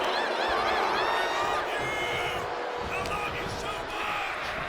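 Arena crowd in the WWE 2K25 video game, at an NXT TakeOver Chicago wrestling event, keeps up a steady, dense roar of cheering and whoops throughout, loud and continuous with no clear break.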